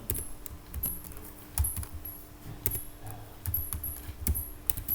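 Java code is typed on a computer keyboard in a quiet room, with irregular soft key clicks and a few heavier taps scattered throughout; no speech.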